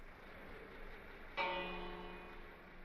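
A bell in the Minecraft game strikes once midway, a bright ringing tone that decays slowly over the following seconds above soft background ambience.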